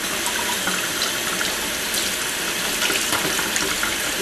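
Cold tap water runs steadily over sauerkraut in a sink, a continuous close hiss and splash with faint clinks, no one talking.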